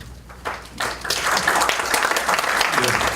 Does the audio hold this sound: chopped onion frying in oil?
no